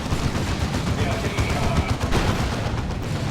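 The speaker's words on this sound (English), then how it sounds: "Happy Stickman does actually like his turrets though." Turrets in a strategy video game fire continuously in dense, rapid crackling bursts that stay steady and fairly loud, with a voice talking beneath the shots.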